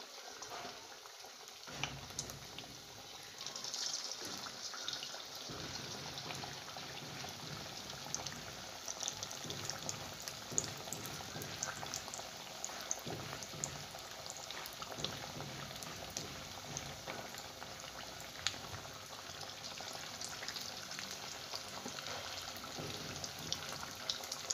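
Sabudana vada balls deep-frying in hot oil make a continuous crackling sizzle with scattered sharp pops, steady and close for a long stretch without talk.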